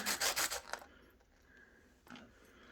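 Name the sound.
sanding bottom of silver pendant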